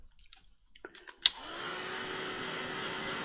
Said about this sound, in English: I've got my Tim Holtz dryer